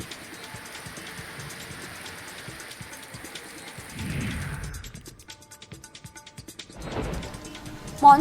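Steady rain falls with gusts of stormy wind during a thunderstorm in Latur, a continuous hiss with brief louder surges and a short sharp knock near the end, muffled voices faintly underneath.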